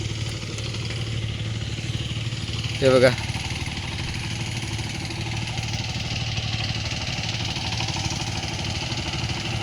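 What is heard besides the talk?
large tractor engine running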